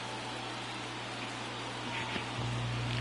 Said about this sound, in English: We got a light rain coming down here in Los Angeles.